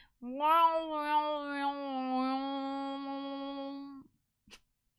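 A voice imitates a long, wavering cat meow, drawn out for several seconds and fairly loud, then stops, followed by a brief click.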